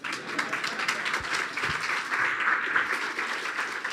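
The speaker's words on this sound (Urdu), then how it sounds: "ساری تالیاں میرے یسوع کے لیے" Church congregation applauding during a worship service, a steady dense wash of clapping that fills the whole stretch at even loudness with no pauses.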